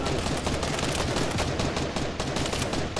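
Dense, continuous video-game gunfire from a shooter, rapid overlapping shots forming a loud, sustained barrage with no gaps across the whole stretch and no voices.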